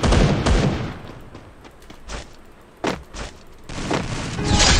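Bursts of gunfire in Garena Free Fire, a duo-versus-duo match: loud, rapid fusillades open and close the stretch, with scattered single shots and thuds between them, no talk over it.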